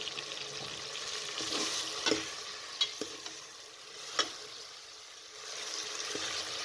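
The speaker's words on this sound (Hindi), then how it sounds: "अच्छे तरीके से चम्मच चला लें।" A spoon scrapes and stirs chicken with garlic and ginger in a hot pan, with a steady sizzle and several sharp clinks against the metal.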